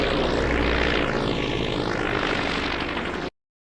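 A loud propeller airplane engine roars steadily up close as the plane takes off, with a broad droning rush and a sweeping swell in pitch as it passes, then cuts off abruptly.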